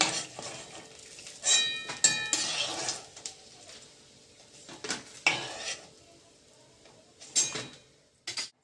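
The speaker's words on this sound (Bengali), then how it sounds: "কড়াই বসিয়ে দিলাম রান্নার জন্য" A metal kadai is set down on a kitchen stove, giving sharp clanks and scrapes scattered among other clinks of pots and utensils, close and fairly loud against near-quiet pauses.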